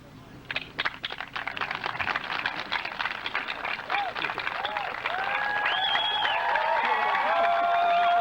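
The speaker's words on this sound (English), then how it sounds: "give them the round of applause they deserve" Steady applause from a graduation crowd, rising and filling out toward the end, with some faint chatter and cheering mixed in.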